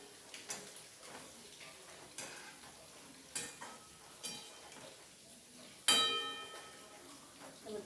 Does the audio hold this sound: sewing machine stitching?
no